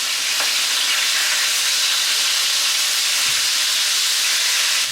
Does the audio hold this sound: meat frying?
yes